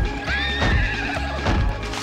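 A horse whinnies in the Futurama game on PlayStation 2, a loud, close, wavering neigh over a dense game soundtrack with hoof clops.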